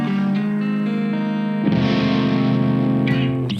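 An electric guitar played through a Plexi amp set on 6: sustained distorted chords ringing out, then a fresh strum hits hard with thick saturated drive that decays slowly.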